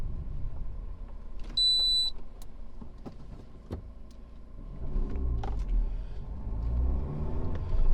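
A Maruti Ignis running on CNG accelerates, its engine rumbling low and steady and rising in pitch near the end, heard from inside the car with a brief beep early on.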